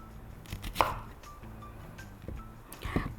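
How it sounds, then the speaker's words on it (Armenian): A kitchen knife chops onion on a cutting board in a home kitchen while preparing lentil and chicken pilaf, with a few sharp, irregular knocks spaced among softer cutting sounds. "Սկզբում կտրատելու եմ սոխը, հետո կազարը։"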